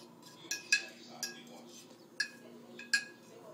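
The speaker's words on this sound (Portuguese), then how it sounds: "Vou pôr o leite e você continua mexendo, tá?" A spoon clinks and scrapes against a pan several times while a mixture with milk is stirred, with soft voices talking quietly in the background.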